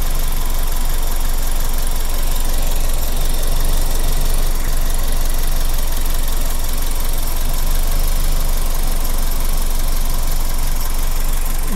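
A car engine idles steadily and loudly up close with its oil filler cap open, idle speed dropped, during a blow-by check; a continuous rumbling drone with a faint rattle and no voices.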